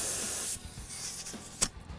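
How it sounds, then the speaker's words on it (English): An HVLP spray gun sprays rejuvenator with a steady close hiss for about half a second, then cuts off, followed by quieter handling noises and a short puff. "It's called an HVLP gun."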